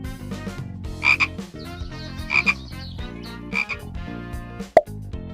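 Frog calls ring out in three evenly spaced, loud, nearby croaking bursts, raspy and resonant, ending with a short sharp note and no voices.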